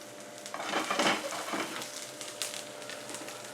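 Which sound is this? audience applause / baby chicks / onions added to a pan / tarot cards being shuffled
onions added to a pan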